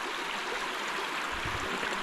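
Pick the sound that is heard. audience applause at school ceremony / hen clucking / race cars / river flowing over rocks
river flowing over rocks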